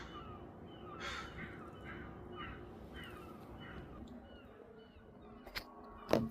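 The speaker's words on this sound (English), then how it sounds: "You can hear seagulls." Several gull-like calls sound one after another across the stretch, moderately near, over steady outdoor background noise, followed by a couple of sharp knocks at the end.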